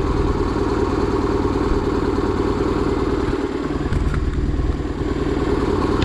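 A BMW R1100GS motorcycle engine idles steadily while warming up, a close, continuous low rumble with an even pulsing beat and some mechanical clatter throughout.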